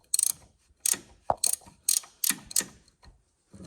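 A ratchet wrench tightens a ball joint bolt on a Honda Fit during wheel bearing work, a series of six or seven quick, sharp clicking strokes spaced irregularly, close by and fairly quiet, with no talk.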